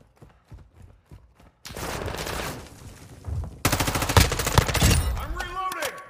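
SMG fire in the video game High on Life: sparse single shots first, then rapid sustained automatic bursts growing louder, ending in sci-fi warbling effects.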